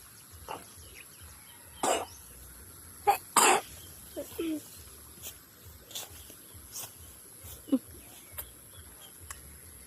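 A handful of scattered coughs and throat-clearing bursts, the strongest two close together near the middle, rise out of a quiet outdoor background with faint chirps and small noises between them.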